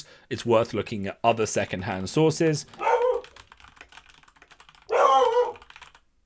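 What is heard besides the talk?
dog barking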